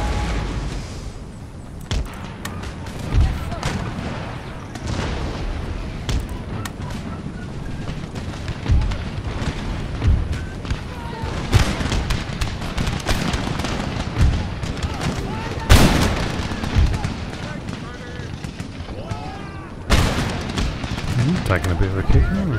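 Musket volleys crackle and pop repeatedly across an Empire: Total War (DarthMod) eighteenth-century battlefield, with sharper bursts standing out against a constant background rumble while someone talks over the fighting.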